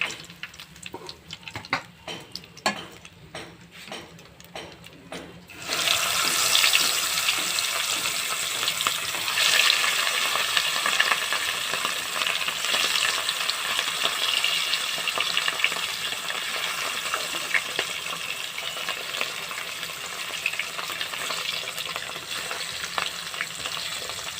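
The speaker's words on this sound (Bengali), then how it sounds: "বাকি মাছও এভাবে ভেজে নিচ্ছি" Katla fish pieces, the remaining ones of the batch, fry in hot oil for a Bengali katla posto, giving a steady, dense sizzle that jumps up loudly after a quieter opening and then crackles on evenly.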